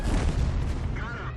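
A tank cannon shot in World of Tanks blasts out as one loud, broadband boom with a long rumbling tail, heard close and without any talking over it.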